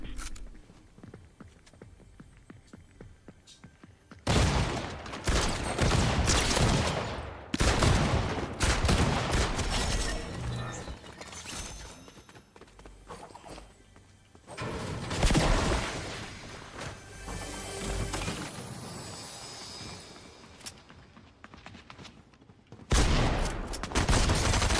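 Gunfire from a gun in a video game comes in several loud rapid bursts separated by quieter gaps, with faint footsteps and handling noise between them and no voices.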